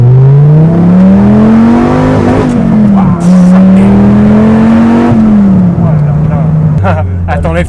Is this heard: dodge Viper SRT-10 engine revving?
yes